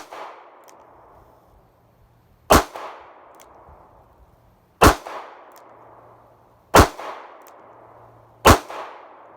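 Four loud, sharp revolver shots from a Smith & Wesson 637 firing Winchester white box ammunition at an outdoor range, spaced about two seconds apart, each with a short ringing decay and no talking.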